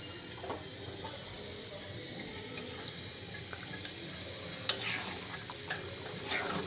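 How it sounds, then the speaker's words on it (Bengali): Marinated beef for kala bhuna sizzles softly in a pan on the stove while being stirred, giving a low steady frying hiss with a few faint scrapes and clinks. "ম্যারিনেট করা হয়ে গেছে, এখন চুলায় বসায় দিলাম, দিয়ে আস্তে আস্তে জাল দিয়ে নাড়াচাড়া করতে হবে"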